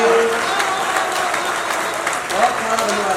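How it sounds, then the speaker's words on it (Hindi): A kavi sammelan audience at a cultural hall in Takhatpur claps in a steady mid-level round of applause, with a voice speaking briefly over the clapping. "तालियां थोड़ी कम है आपकी"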